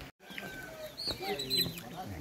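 Several chickens cluck and chirp at moderate distance on a small home farm, against a busy outdoor background, with a voice briefly audible among them.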